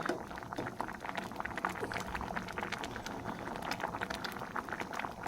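Lentil dal with banana stem simmers in a pot, a soft, continuous bubbling and popping heard close but faint, with no talking.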